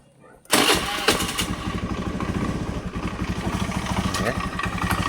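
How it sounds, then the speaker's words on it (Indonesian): A Honda Beat motor scooter engine starts after a brief quiet moment, then settles into a steady, close idle with a light clattering rhythm from a worn roller housing bushing in the CVT. "Ini motor Beat kalau kita hidupkan"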